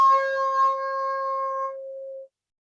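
A single low C held on a wind instrument, starting bright and unsteady as the pitch wavers from poor breath control, then thinning and tapering off before abruptly stopping; solo and close.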